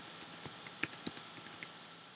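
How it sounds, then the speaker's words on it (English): A password is typed on a computer keyboard: about a dozen quick, light key clicks in an uneven rhythm, close by and quiet, with no voices. "I need to type my password in."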